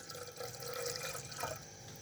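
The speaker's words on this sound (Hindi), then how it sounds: "अब इसके अंदर हम 2 कप पानी शामिल कर देंगे।" Two cups of water poured into a pan on the stove for Kashmiri chai, a steady close splashing and trickling stream lasting throughout at moderate level.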